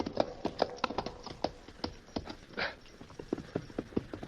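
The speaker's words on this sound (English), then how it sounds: "Look there, that white horse." Horse hooves clip-clop in a steady, uneven rhythm of sharp knocks, fairly close and clear, with a white horse in an old radio western setting.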